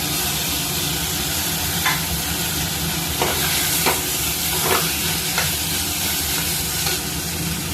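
Salt and turmeric being stirred into dal in a cooking pan for khichuri, a steady close sizzle with a few soft scraping strokes of the spoon, no voices.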